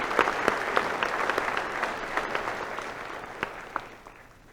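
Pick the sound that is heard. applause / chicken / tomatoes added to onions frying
applause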